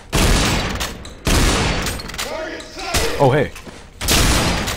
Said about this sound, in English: Ooh, new type of shotgun.